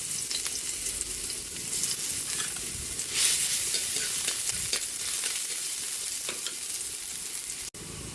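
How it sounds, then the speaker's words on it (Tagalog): Garlic sizzles in a pan, sautéed as the base for ginisang munggo, a loud continuous crackle and hiss with scraping stirs throughout, cut off sharply near the end. "Magigisa na po tayo ng ating ginisang munggo."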